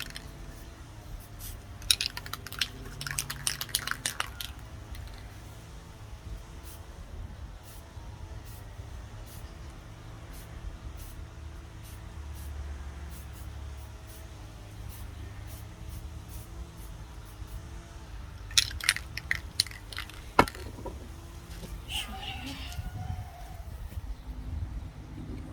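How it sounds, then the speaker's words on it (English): Black spray paint is applied gently from an aerosol can onto a white surface in two short stretches of close hissing bursts, separated by a long pause filled with low background rumble. "So I'm gonna spray it gently."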